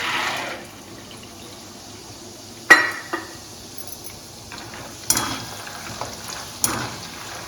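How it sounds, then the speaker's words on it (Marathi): Peanuts sizzle in hot oil in a pan, fried for a Diwali chivda made from roasted poha. A steady close hiss carries a few sharp crackles and pops, and no one speaks. "आता आपण शेंगदाणे तळून घेऊया"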